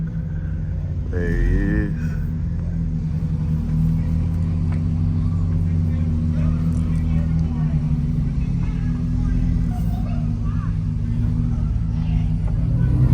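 A car pulls up outside a graduation party with a steady low engine rumble and a brief rise in revs, while people talk nearby over the idling drone.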